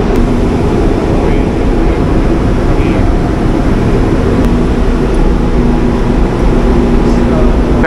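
A passenger ferry's engine drones on the lower deck, a loud, constant low hum and rumble filling the space without letup, with faint talk beneath it.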